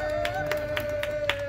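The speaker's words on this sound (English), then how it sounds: "Ladies and gentlemen, some applause for Riley!" Guests at a children's birthday party give a round of applause for a girl named Riley, with scattered claps and a steady background hum.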